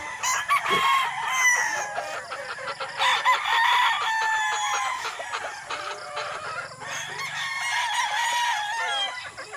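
Gamefowl broodstag rooster with a street comb and pea comb crowing repeatedly, close and loud, with clucking from other fowl around it on a game farm, no talk.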